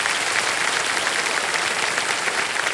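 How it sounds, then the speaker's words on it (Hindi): Steady, dense applause from a studio audience for a contestant on the Kaun Banega Crorepati game show, loud and sustained throughout with no voices over it. "तो एक बार फिर जोरदार तालियां बज जाएं प्रिया जी के लिए"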